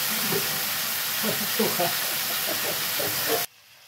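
Soy sauce hits a hot pan and sizzles in a loud, steady hiss with a few bubbling pops, then cuts off abruptly near the end.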